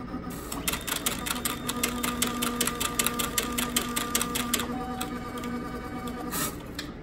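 A Roland FJ-50 wide-format printer runs its cleaning cycle, giving a steady mechanical whir with rapid, evenly spaced clicking that stops abruptly near the end, loud and close with no talking.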